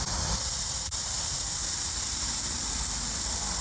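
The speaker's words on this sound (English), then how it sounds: "I'll put it right here on the black where you can see it coming out." Steady, close airbrush hiss as air from a Rooty Tooty compressor sprays continuously at even pressure, with one faint click early on.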